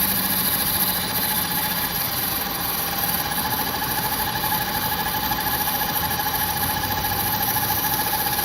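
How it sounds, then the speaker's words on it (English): A logging crane's engine runs steadily while lifting a heavy tree trunk, a continuous mid-pitched drone with a faint knocking vibration, loud and close throughout, no voices. "The giant crane stretched its muscular arms through the foliage, holding the suspended tree trunk."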